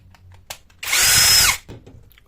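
A Ryobi 12V cordless tool battery pack is taken apart with a power driver, giving one loud whirring burst of about three-quarters of a second, framed by faint handling clicks.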